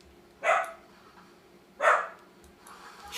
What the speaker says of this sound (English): Can you believe this dog?